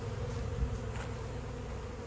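Honeybees at a hive close to swarming drone in a dense, continuous buzz that stays close and fairly loud throughout, with no voices.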